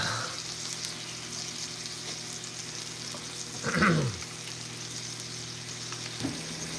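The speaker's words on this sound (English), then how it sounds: "Don't you hear that sizzle? Don't you love it?" Steady broadband sizzling of chicken frying in a pan, continuous and close, with a brief louder burst of crackle partway through.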